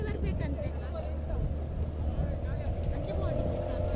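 Motorboat speeding past on the water near Mangalore during a kayaking outing, a steady rushing engine and water roar that fills the clip, with voices faintly mixed in.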